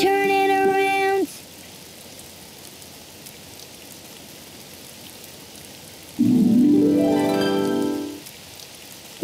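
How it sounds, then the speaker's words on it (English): Cartoon rain falls outside as a soft, steady hiss, framed by short musical tones at the start and a rising tonal sweep later on. "It's raining outside."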